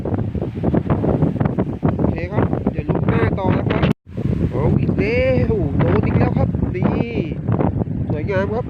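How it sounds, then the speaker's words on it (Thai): Strong wind buffets the microphone outdoors with a loud, steady low rumble, broken by one brief dropout, while someone talks over it almost continuously. "ลมแรงมากเลยครับท่านผู้ชม ลมแรงมากมากเลย"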